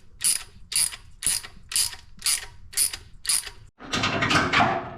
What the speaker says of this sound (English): these get torqued down to 25 foot-pounds